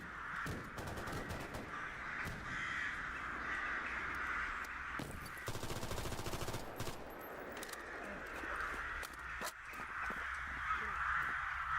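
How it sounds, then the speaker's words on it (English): Repeated crow caws sound in the background of a GAMMA mod game session, steady and fairly prominent under a voice talking, with a few sharp bursts. "Why is the bird noises lasting so long in the background?"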